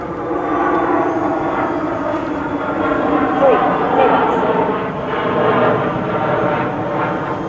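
An E-Flite EC-1500 RC airplane flies under power, its electric motor giving a continuous, fairly loud buzzing whine with slight swells as the throttle and distance change.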